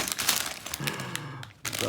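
Plastic Halloween-themed Lego polybag crinkling as it is handled, with irregular close crackles and rustles throughout and a voice speaking briefly.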